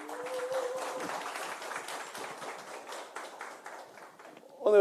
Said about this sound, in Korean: 여러분 다시 한번 뜨거운 박수로 환영해 주시면 감사하겠습니다.